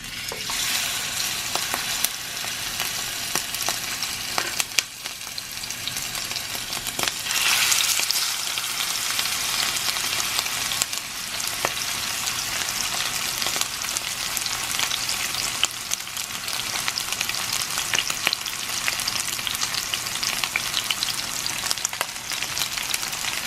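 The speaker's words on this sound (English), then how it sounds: "now I'm going to add 1 pork chop at a time" Pork chops fry in a hot pan, a steady loud sizzle and crackle running the whole time with small pops and bursts of spatter, close and continuous with no voices.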